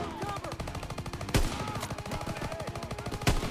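A submachine gun empties a full clip in Call of Duty WW2, a rapid, steady burst of close, loud shots with a couple of heavier booms cutting through the stream.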